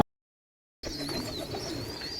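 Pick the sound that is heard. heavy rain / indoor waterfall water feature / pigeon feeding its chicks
pigeon feeding its chicks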